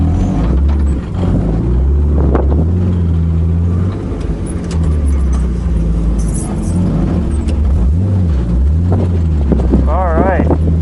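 A turbocharged BMW E36 with an S52 engine is driven on the road, its engine droning and rising and falling in pitch with wind buffeting. A person talks over the engine at times.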